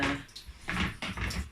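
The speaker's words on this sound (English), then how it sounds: "I'm going to pour it inside" Liquid splashes into a bowl close by in a few short gurgling pours, one after another.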